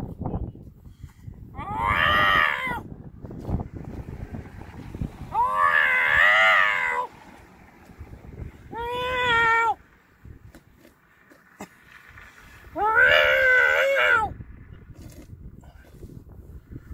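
A man imitates a cat, giving four drawn-out, wavering meows and yowls separated by pauses, loud and close, each call rising and falling in pitch like a caterwaul.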